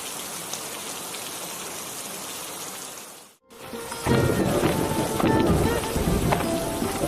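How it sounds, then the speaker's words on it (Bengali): Cartoon rain pours in a continuous broadband hiss that drops out briefly near the middle, then returns louder and heavier with some tonal ringing mixed in. "আরে ও টুম্পা, তুই বৃষ্টিতে ভিজে কোথায় গিয়েছিলি মা?"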